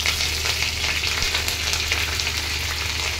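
Curry leaves crackle and sizzle in hot oil for tempering, a continuous bright spattering hiss heard up close with no voices.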